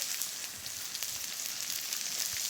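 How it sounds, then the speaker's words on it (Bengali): Whole cumin seeds and dried red chilies sizzle steadily in hot oil, a close, continuous bright hiss with small crackles throughout. "শুকনো লঙ্কাটা একটু নেড়ে চেড়ে লালচে করে ভেজে নিয়েছি। এবারে দিয়ে দিচ্ছি গোটা জিরে"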